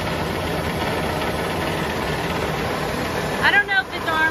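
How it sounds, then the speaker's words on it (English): A 380-horsepower Cummins diesel engine idling on a machine that runs but will not move, giving a steady low rumble with a constant high whine, briefly joined by a nearby squeak or voice-like sound near the end. "This is also a Cummins diesel. This motor will run, but this will not move."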